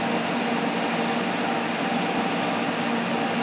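A Hot Coat wheel coater machine runs with a steady, loud, continuous whir and rush, constant throughout with no talking.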